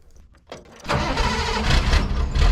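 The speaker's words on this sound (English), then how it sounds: "here you can see a typical start for this engine" A 1988 GMC C7000 dump truck engine cranks briefly, then catches and fires up into a loud, rough, steady running roar that continues to the end, heard close with no talk.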